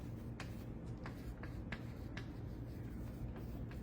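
Marker or chalk taps and strokes on a board during a vector calculus lesson, giving a series of sharp, irregular contacts over a steady room hum with no talking.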